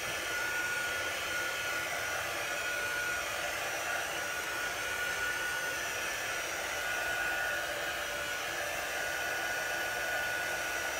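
A heat tool blows a steady, even hiss of airflow while drying chalk paste on a stencil, constant and close for the whole stretch, with no talk over it.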